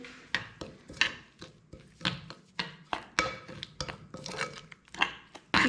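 A spoon scrapes and knocks against a bowl while chicken is mixed with a ginger-garlic paste marinade, in a steady series of close, sharp clinks and wet rubbing strokes with no talk.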